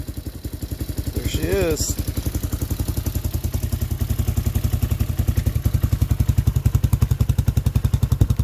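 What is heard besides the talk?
Tao Tao 250cc Hawk motorcycle engine idling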